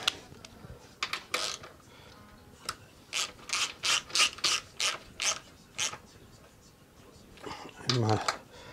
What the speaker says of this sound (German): Ratsche.